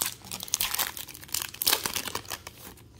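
A foil trading card pack, a 2021 Chronicles baseball pack, is torn open and crinkled by hand, a close, continuous rustle of crackling wrapper with sharp tearing bursts and no voices.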